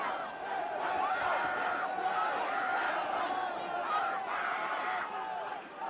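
A dense concert crowd at AstroWorld screaming and shouting, a continuous mass of high-pitched yells and cries heard from a distance, muffled and blended into a roaring hubbub.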